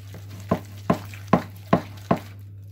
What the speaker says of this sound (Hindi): काट करके हमने इस बैटर के अंदर मिक्स कर दिया है।